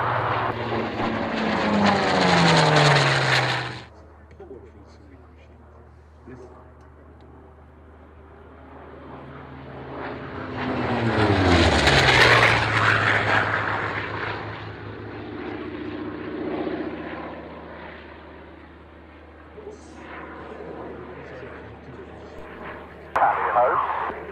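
A Fury propeller aircraft rolls in at a flying display, its engine sweeping loudly past, fading, then building into a second loud pass before trailing off, with distant engine drone continuing.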